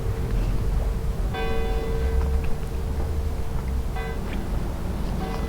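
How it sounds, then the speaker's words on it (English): A church bell rings outdoors near a home, two clear strikes several seconds apart with long ringing tails over steady traffic and wind noise. "It's the church bell."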